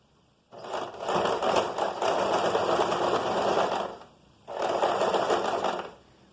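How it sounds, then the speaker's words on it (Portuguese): Sewing machine stitching a straight seam along a fabric edge: a fast, even motor whir runs for several seconds, stops briefly, then starts again for a second shorter run, close and clear. "aqui vai ser uma costura reta na beirada"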